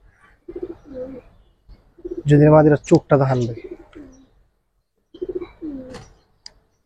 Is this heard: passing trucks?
no